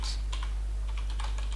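Quick, light key clicks from typing on a computer keyboard, close and fairly quiet over a steady low hum.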